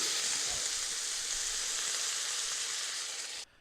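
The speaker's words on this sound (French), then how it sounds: "Et je verse maintenant le lait de coco." Coconut milk poured into a hot pan of mussels, a loud, steady hiss of sizzling that cuts off abruptly at the end, with no voices.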